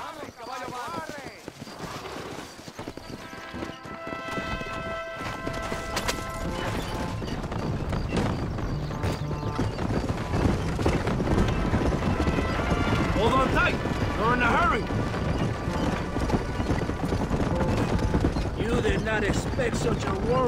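Horses gallop with steady clip-clop hoofbeats in Red Dead Redemption, riders heading out among Mexican army soldiers, the rhythm loud and continuous under game music, with a brief crash and a whinny mixed in.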